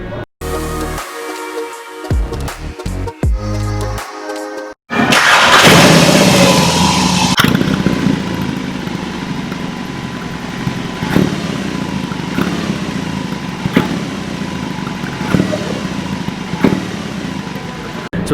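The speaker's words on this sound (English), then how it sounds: "that was the sound of the motorcycle" A BMW R18 cruiser motorcycle starts with a clattering crank, then catches into a loud, deep idle with a few throttle blips. The engine is heard close up and runs steadily with no talk over it.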